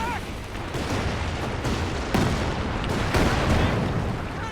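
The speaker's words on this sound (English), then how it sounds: "now we do got a Calliope barrage coming on in" A Calliope rocket artillery barrage in Company of Heroes 2 rumbles as a continuous roar of launches and impacts, with a couple of heavier booms, while a commentator talks over it.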